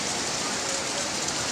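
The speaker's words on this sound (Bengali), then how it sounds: "এই যে বৃষ্টি পড়তাছে রে বাবা," Heavy storm rain pours down in a dense, unbroken wash close by, loud and steady with no voices.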